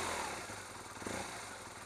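An adventure motorcycle engine runs steadily up close with a throaty, low rumble, a continuous drone that holds evenly for a couple of seconds.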